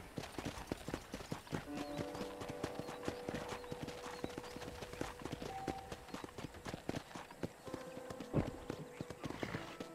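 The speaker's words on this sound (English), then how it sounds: "Oh, I can still ride a horse." Rapid, rhythmic clip-clop of horse hooves at a steady trot in the video game Red Dead Redemption, continuous throughout, with a faint tonal hum and brief whinny-like sounds in the mix.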